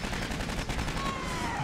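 An automated sentry gun in the game Aliens Colonial Marines fires in rapid continuous bursts, a dense crackling stream of shots running steadily throughout at moderate loudness.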